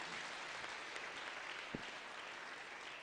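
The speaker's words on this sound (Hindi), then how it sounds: "ताली बजाओ मेरे प्रभु के लिए जोर से" Congregation clapping loudly during a Sunday church service, a dense steady wash of applause filling the room throughout, with one brief low thump partway through.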